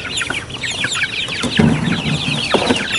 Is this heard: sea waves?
no